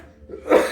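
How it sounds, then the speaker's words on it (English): One short, sharp human cough bursts out near the end, close and alone after a brief quiet breath. "Did my cough scan?"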